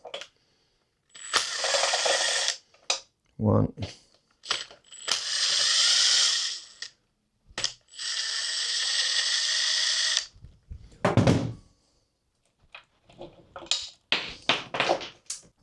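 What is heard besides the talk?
electric drill removing bolts on Tohatsu 9.8hp outboard engine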